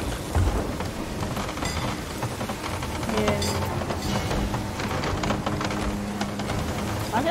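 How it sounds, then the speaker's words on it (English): A heavy storm in the pirate game Sea of Thieves, with driving rain hissing steadily at sea and rolling thunder rumbling through, loud and continuous with brief sharper cracks. "we're so deep into the storm now, it's disgusting."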